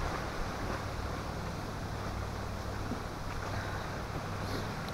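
Wind gusts across a wooded lakeshore campsite, a steady loud rushing roar buffeting the microphone with no pause and no voices.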